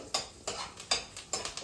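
Green chillies shallow-fry in a pan. A utensil scrapes and clinks against the pan in four or five quick, regular strokes over a faint sizzle, with no talking.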